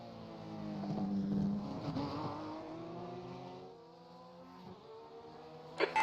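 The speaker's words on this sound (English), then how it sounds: "They like the sound of them high revving Porsches." A high-revving Porsche race car engine in iRacing at Bathurst whines steadily, its pitch sliding up and down as it holds a loud, buzzing drone.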